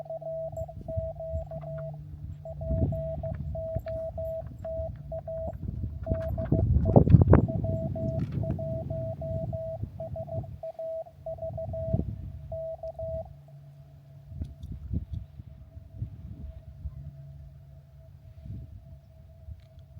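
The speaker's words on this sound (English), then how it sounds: "this is what you're hearing is coming straight from the radio" Radio audio plays through a small speaker outdoors in San Bernardino National Forest: a steady beeping tone pulses for several seconds over muffled, crackly broadcast noise and rumble, then holds as a continuous tone.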